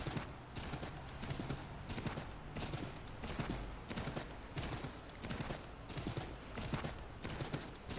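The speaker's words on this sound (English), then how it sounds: "motion and sound of horses' hooves in the snow" Horses' hooves crunch through snow in Assassin's Creed III Remastered, a steady rhythmic clip-clop of several hoofbeats per second, moderately close and continuous.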